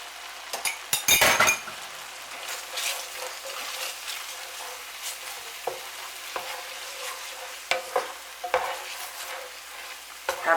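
A spoon stirs a thickening curried steak and onion pie filling in a pot, scraping and clinking against the metal in irregular bursts over a low simmer, close and moderately loud, with no talking.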